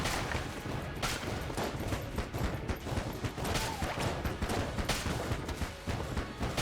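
Enemy gunfire fills a room in Enter the Gungeon, a dense, continuous barrage of overlapping shots and impacts at steady loudness, with no voices.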